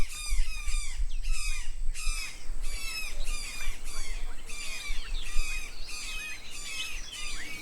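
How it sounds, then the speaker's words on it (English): Brown jays call loudly and persistently in Belize, a run of harsh, squawking cries repeated in quick bursts over a steady low rumble. "Equally common is the brown jay, a medium-sized bird with a loud,"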